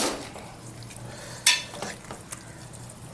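Pieces of thick fish are turned over in a large pot of Telugu-style fish curry, giving soft stirring scrapes, light sizzling and a few sharp clinks of a utensil against the pot.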